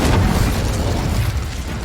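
Confringo fire-blast spell in Hogwarts Legacy, a loud, dense rumbling explosion that fills the moment and slowly tails off without a break.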